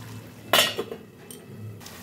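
A metal utensil clinks against a pan while fish curry with potatoes is stirred, one sharp clatter followed by softer scrapes and a light knock, quiet and close, no talk.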